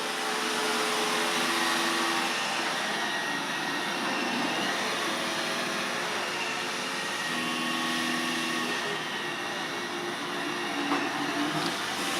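An iRobot i7+ robot vacuum runs along a wall with its spinning side brushes turning, giving a steady, continuous whirring drone close by with no pauses, and no one talks over it.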